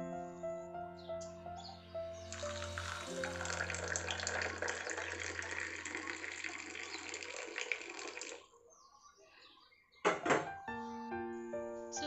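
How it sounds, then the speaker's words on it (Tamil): Hot water poured into a glass for a home remedy, a continuous splashing pour lasting several seconds, then a short stop and a brief second pour, with faint background chirps. "நம்ம வந்து சுடுதண்ணி காய வச்சுருக்கோம்ல, அதை எடுத்து இந்த கிளாஸில் ஊற்றிக்கலாம்"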